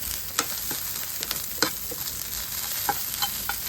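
Grated coconut fries lightly in a pan for a chicken kuzhambu, a steady close sizzle broken by scraping spatula strokes, with no voices.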